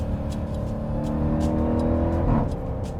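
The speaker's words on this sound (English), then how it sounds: "initially in the rev range, it's all supercharger whine, and then the exhaust noise overpowers that" Jeep Grand Cherokee Trackhawk revving, a steady supercharger whine layered over a loud, continuous exhaust drone that swells and sweeps near the end, close and sustained without talk.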